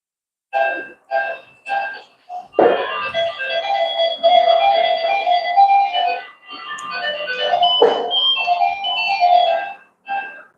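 An ice cream truck passes while its chiming music-box jingle plays, loud and close, with short tune phrases first, then a sustained melody, one sharp burst near the middle, and the tune carrying on to the end.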